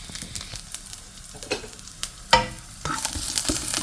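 Garlic sautés in a pan with a crackling sizzle, broken by sharp clinks and scrapes from stirring. The frying grows louder and denser toward the end.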